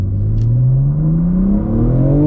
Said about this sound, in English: It does take the turbo a second to spool up is what I noticed.